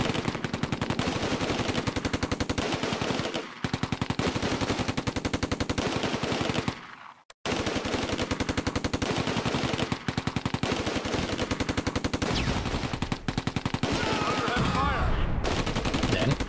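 Sustained rifle and machine gun fire in the Close Combat: A Bridge Too Far war game, with dense rapid bursts rattling almost continuously, briefly cutting out before resuming loudly.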